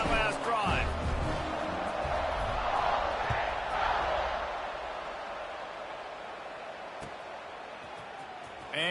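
A stadium crowd in the CFB 26 college football game roars steadily in the background during an Ole Miss versus SMU kickoff, a broad, moderately loud wash of cheering that slowly fades, while a commentator talks over it.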